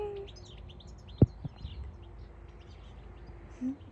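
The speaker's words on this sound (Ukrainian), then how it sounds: "І пташки." Small birds chirp and tweet faintly in the background, with short scattered calls over a quiet outdoor ambience and a brief knock.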